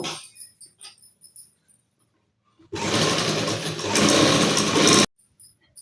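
A sewing machine stitches thread piping on cloth, starting after a few soft handling taps and running as one loud, steady, rapid mechanical whir for about two seconds before stopping abruptly.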